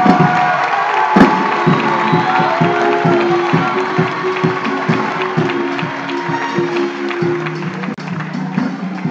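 A church congregation at a closing Sunday service applauds and cheers in a large hall, a loud, dense roar of clapping with shouts and whoops and steady rhythmic beats running through it.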